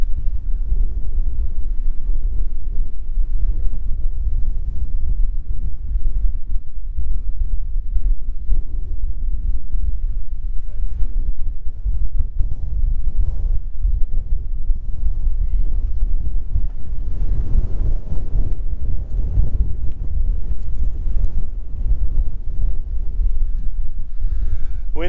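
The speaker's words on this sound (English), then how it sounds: "Wind is super incredible." Strong wind buffets the microphone on the exposed Rocky Peak Ridge summit in the Adirondack High Peaks, a loud, continuous low roar with gusting swells throughout and no talking.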